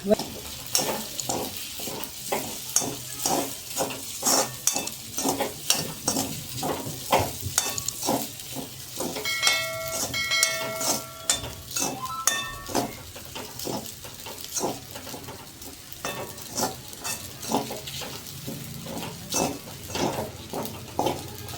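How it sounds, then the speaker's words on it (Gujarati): Soaked sago is stirred and fried in a pan for farali khichdi, with steady sizzling under repeated scraping strokes of a spoon against the pan, close up and with no talk. "હવે તેમાં સાબુદાણા પલાળેલા છે તે નાખી દેશું"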